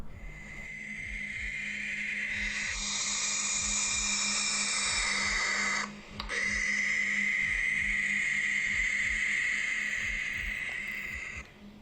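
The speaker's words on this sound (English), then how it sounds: "there is a strange demonic hissing sound that can be heard coming directly from the dark void" A steady, loud hiss rises from the dark void of a deep vertical mine shaft at an abandoned site, holding almost unbroken for about twelve seconds with one brief dip, alone and without voices.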